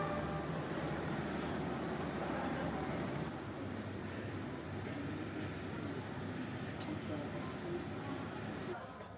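Night train running from Hanoi Station toward Sapa, a steady dense rumble of rolling carriages with broadband rattle throughout, slightly louder at first, with faint voices mixed into the background.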